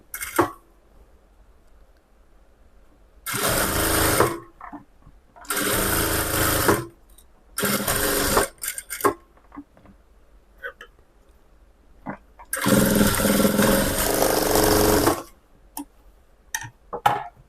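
A sewing machine stitches a lining blouse in three or four separate bursts of loud, steady whirring, with pauses of quiet handling between them and a voice talking briefly in the gaps.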